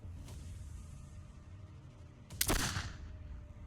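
Blind gunfire in a VRChat roleplay lets off a single short, loud volley midway through, breaking a steady low background hum.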